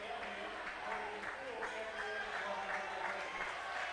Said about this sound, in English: Logan Hill gonna get a break and a round of applause.